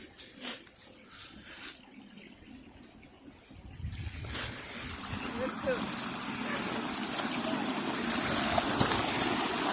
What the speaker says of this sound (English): Little creek right here.